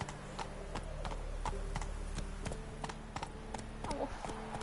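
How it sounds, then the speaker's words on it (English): Horse hooves clip-clop in a steady, brisk trot in The Witcher 3: Wild Hunt, evenly spaced and moderately close over a low, constant game ambience. "Qué chulito voy con mi nuevo caballo"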